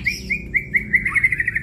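An oriental magpie robin (murai) songbird sings nearby in a string of clear, bright whistled chirps repeated in a steady rhythm over a low background hum.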